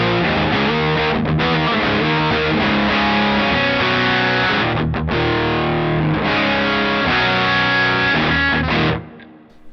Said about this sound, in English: and this is a full humbucker.